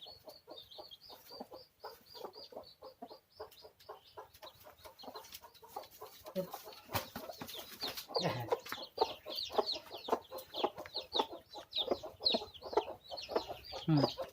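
Chickens cluck repeatedly in a busy, continuous chorus, growing louder and denser toward the end, with faint background noise.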